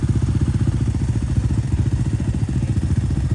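Off-road motorcycles, including a KLX 230 and a Honda 450, run on an ATV safety course, their engines putting out a steady, rhythmic mid-pitched drone with clattering pulses, close and continuous with no talk.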